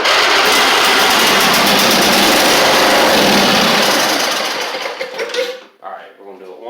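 A Huskee Supreme 50-inch riding mower with a Briggs V-twin engine cranking hard in one loud, continuous grinding whir that winds down and stops, followed by quieter rustling.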